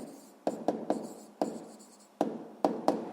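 Chalk or pen strokes on a board during a seventh-grade physics exercise: about seven sharp taps, each trailing into a brief scratchy stroke, spaced irregularly and heard close with no talking.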